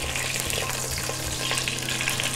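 Bay leaves, peppercorns and cloves tempering in hot oil give off a loud, steady, close sizzle that runs unbroken and with no voices.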